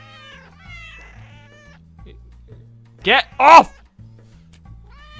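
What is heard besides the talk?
cats meowing in video game Cat Fortress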